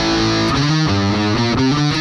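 An electric guitar runs through a Line 6 POD HD500X amp model with overdrive, noise gate and volume pedal, playing a loud, sustained distorted melodic line with shifting notes and no reverb.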